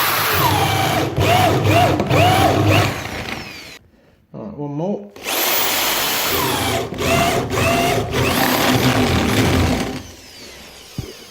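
A Bosch power drill with a Bosch bit whines loudly in long bursts, stopping briefly in the middle, with a person speaking a few words over it.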